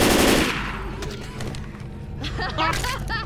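Video game gunfire in Left 4 Dead 2: a loud burst up front fades into scattered shots and clatter, with players calling out over the action.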